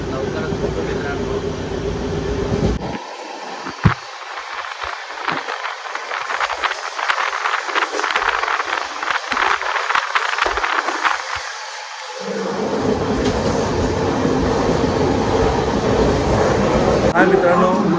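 An Indian passenger train runs along the rails with a continuous rumble and rhythmic clatter, with faint voices in the carriage and the running noise steadying toward the end.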